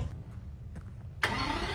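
An Aston Martin V12 Vantage fires up with a sudden loud bark after a quiet moment of starter noise, then settles into a steady, rich idle nearby.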